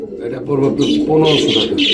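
A pair of racing pigeons coo close by in low, throaty rolling calls, with a voice heard alongside.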